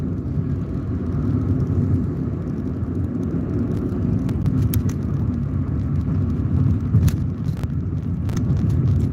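Steady low road rumble of a car driving, continuous and fairly loud throughout, with occasional faint clicks and ticks over it and no one speaking.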